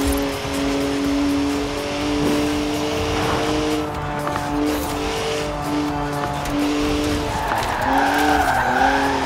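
A BMW 1M drifts in Forza Horizon 4, its engine holding a steady loud harmonic drone while the tires skid and squeal continuously, pitch wavering through the slide and rising sharply near the end.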